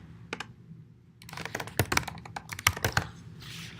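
A command typed on a computer keyboard: a single keystroke, a short pause, then a quick run of clattering key presses, close and clear with no talking.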